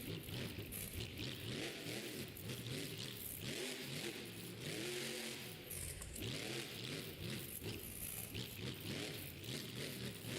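A car engine in a video game revving and changing pitch continuously as it drives, a steady buzzing whine rising and falling in repeated sweeps, loud and unbroken with no talk.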